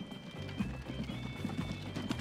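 Horse-drawn carts in the transport video game Transport Fever, with faint, quick hoof clip-clops in a loose rhythm over a low ambient hum.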